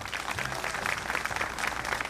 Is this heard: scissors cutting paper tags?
no